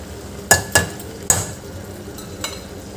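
Washed rice and a bay leaf added to a pot of peas and potatoes, then stirred, a few sharp metallic clanks of a spoon against the pot followed by a faint scrape.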